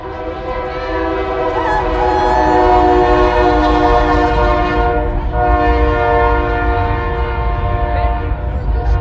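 A train passes close by on downtown railroad tracks, its horn blaring loudly and steadily over the rumble of the cars for several seconds.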